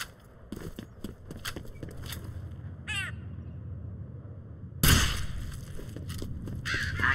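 A crow caws in the video game Fear Extraction Point, a series of harsh calls over a low ambient game bed, followed by a sudden loud bang and rustling movement.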